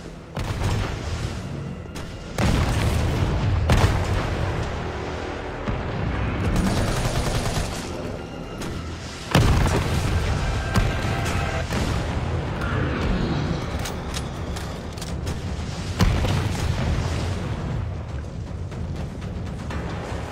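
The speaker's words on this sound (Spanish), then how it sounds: "¿Cohetes?" Fireworks rockets explode in a dense barrage of loud booms and crackling bursts, near and continuous for about twenty seconds with some sharper blasts standing out.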